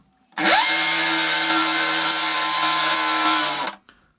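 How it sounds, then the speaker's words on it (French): Hammer drill in percussion mode boring through a brick wall with a masonry bit, a loud steady high-pitched whine with rapid hammering, running continuously for about three seconds alone before stopping. "C'est le petit tac tac tac caractéristique d'une perceuse en position percussion."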